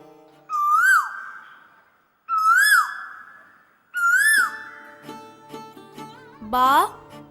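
A person whistles an imitation of a cuckoo bird call during a dance drama, three loud rising-and-falling whistled phrases evenly spaced, followed by a few soft taps and a final sliding whistle.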